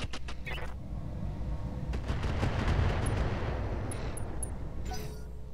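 Mortar artillery fire in the mech strategy game Roguetech (BattleTech), a sustained rumbling barrage of booms and crackling impacts swelling and fading, with a voice briefly over it.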